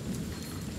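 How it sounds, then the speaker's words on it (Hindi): Heavy rain pouring steadily outside a home, a dense continuous hiss with a low rumble beneath, fairly loud and unbroken, with no voices. "बाहर में कितना जोर जोर बारिश है"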